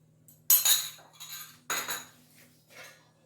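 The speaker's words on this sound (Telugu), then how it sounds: "పిండి బాగా కలుపుకోవాలి." Pulibongaram batter being mixed by hand in a steel vessel with onions, giving a few scraping, clinking bursts of metal and utensil contact at close range, separated by short pauses.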